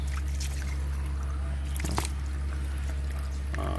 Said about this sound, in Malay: So saya akan tuang.